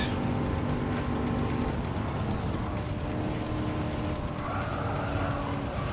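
A Chevrolet race car in Gran Turismo roars continuously close up, engine tone shifting through gears with hints of tire squeal throughout.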